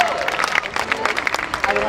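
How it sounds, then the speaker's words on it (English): Audience applause for high school students at a community values walk event in Toronto, a busy crowd clapping with scattered sharp hand hits, mixed with overlapping voices and chatter. "Can we give them another round of applause?"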